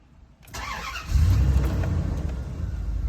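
A 1999 Dodge Ram Van 1500 campervan engine cranks with a brief starter whine, catches, and settles into a loud, steady, low rumbling idle close by.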